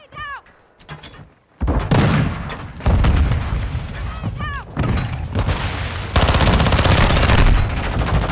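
Automatic assault rifle fire in a multiplayer shooter game during a prisoner-extraction match, loud rapid bursts repeating in several strings close up, with brief pauses between volleys and a voice talking in between.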